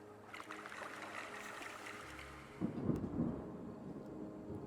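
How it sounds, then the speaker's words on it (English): A low, rolling rumble of video game thunder in Terra Nil swells midway through, over a steady wash of rain and ambient noise. "I can hear that thunder."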